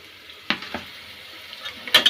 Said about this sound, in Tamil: இது வந்து ஃப்ரை ஆகிட்டு இருக்குதுங்க.